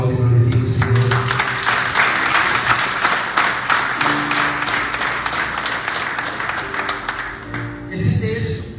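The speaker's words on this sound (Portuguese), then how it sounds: "Se você pode, aplaude e glorifique o Senhor." A church congregation at a Baptist Sunday service claps and applauds for several seconds, fairly loud, with a sustained musical tone and a voice speaking over it.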